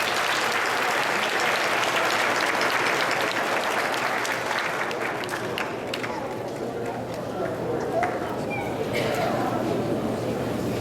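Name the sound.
graduation audience applause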